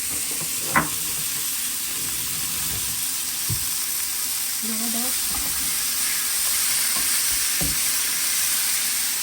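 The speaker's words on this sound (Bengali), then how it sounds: "ভেজিটেবলগুলো স্টিপ ফ্রাই করে নিচ্ছি" Vegetables stir-fried in an oiled pan give a steady broadband sizzle throughout, with a few clacks of a utensil scraping and tossing the food.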